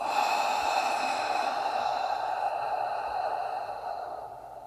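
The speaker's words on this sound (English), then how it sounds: "Inhale completely. Exhale." Deep, steady yoga breathing, one long drawn-out breath through the nose that holds evenly and slowly fades near the end, close and fairly quiet with no talking.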